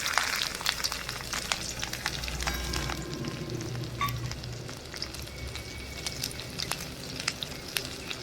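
Chopped onions and chillies fry in hot oil with panch phoron, giving a soft continuous sizzle and crackle with scattered sharp pops and occasional stirring scrapes, fairly quiet and close.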